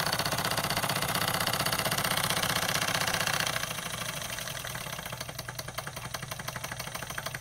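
A Wilesco D10 toy steam engine runs steadily with a fast mechanical chuffing rhythm, close and continuous, its pace easing and softening halfway through as the flywheel is slowed by hand.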